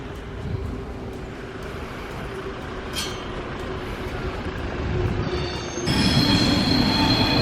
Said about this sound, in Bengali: Swiss train.